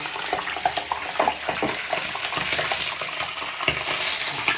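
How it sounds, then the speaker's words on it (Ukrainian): Chicken sizzles and splatters in hot oil, a steady hiss broken by irregular crackles and pops up close. "олія нагрілася, тепер додаємо сюди нашу курочку"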